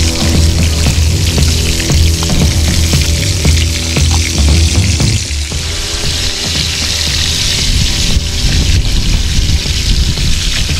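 Pork chops fry in a skillet on a Camp Chef outdoor stove at medium-low heat, a steady loud sizzle and crackle with small pops running throughout, close up and without talk.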